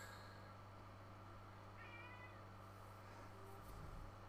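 A cat meows once, faint and fairly close, with a drawn-out cry over a quiet, steady room hum and no one talking.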